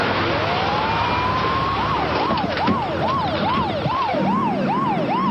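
An ambulance siren wails in a rising sweep, then switches to a fast repeating yelp, loud and close over the rumble of road traffic.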